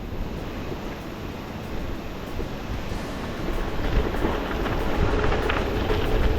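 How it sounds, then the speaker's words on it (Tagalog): Strong ocean waves crashing, a continuous rough surf roar mixed with wind buffeting the microphone, growing slightly louder toward the end. "Lakas ng hampas ng alon. Nadidinig na dito."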